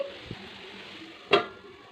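Peeled garlic cloves sizzle in hot tempering oil in a pan for a potato and broad bean curry, a steady soft hiss broken by a faint knock and then a louder clatter of utensil against the pan.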